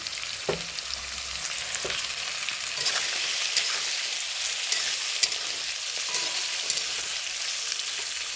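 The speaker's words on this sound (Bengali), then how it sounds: "আদা ভাজা চিংড়ি মাছ আর পেঁয়াজ হয়ে গেছে, দিয়ে দেবো আলু, নুন দিয়ে মাখানো আলু" Steady sizzle of prawns, onions and salted potatoes frying in oil with ginger, with a few clinks and scrapes of stirring over the constant crackle.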